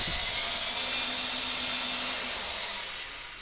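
A power drill bores into a wooden dance pad platform frame, a steady high whine held alone at close range for the whole stretch, fading slightly toward the end.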